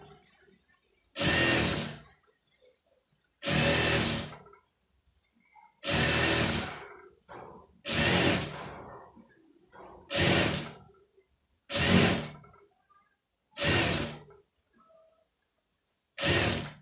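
A sewing machine runs in eight regular bursts of stitching, each about a second long and separated by short pauses, close and fairly loud, while piping is sewn onto a garment's fabric.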